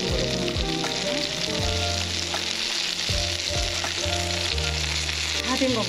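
Pollock and zucchini jeon in an egg coating sizzle steadily in a frying pan, a close, continuous crackle lasting the whole stretch with no talking.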